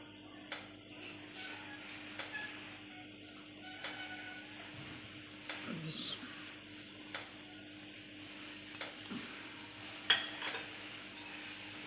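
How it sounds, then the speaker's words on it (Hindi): Chicken momos frying gently in oil over low heat, a faint, steady sizzle with a few soft clicks and bumps now and then, no voices. "मैं फ्राई बना रही हूँ, मैं इन्हें स्टीम नहीं दे रही।"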